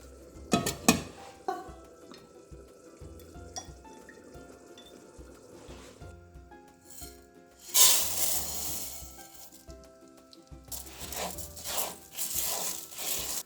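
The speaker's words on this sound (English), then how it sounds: "So now we're going to start cooking the rice." Rice cooks in a pot for a rustic Italian ragù-style risotto, with scraping stirs, soft clinks of utensil on pot and bursts of sizzling that swell louder near the end, no voices present.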